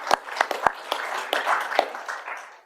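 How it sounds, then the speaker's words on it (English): A council meeting breaks into applause. Scattered sharp claps rise into a moderate ripple of many hands clapping in a room, then fade toward the end. "Big round of applause, everybody."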